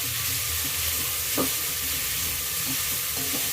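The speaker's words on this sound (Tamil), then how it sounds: "வெங்காயம் நல்லா வதங்கட்டும்." Onions sautéing in a pan for a brinjal and ridge gourd sambar, a steady, even sizzle with faint occasional clinks of a spoon against the pan.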